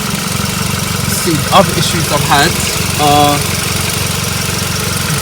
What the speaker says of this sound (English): It is quite a noisy engine.